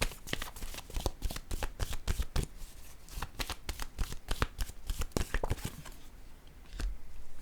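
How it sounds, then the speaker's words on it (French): Oracle cards being shuffled and drawn by hand, a steady run of crisp riffling flicks and soft slaps, close and fairly loud, with no talking. "Je vais piger une autre carte ici pour approfondir."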